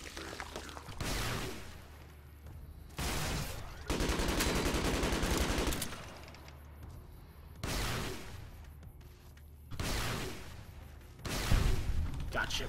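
Bursts of rapid gunfire from Fallout New Vegas come in several loud volleys with short gaps between them, and a voice talks in the pauses.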